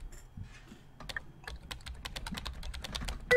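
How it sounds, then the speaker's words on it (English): Keyboard typing in the video game Emily is Away Too: sparse keystrokes at first, then a quick, steady run of crisp clicks, close and clear, with no talk. "Just keep clicking enter"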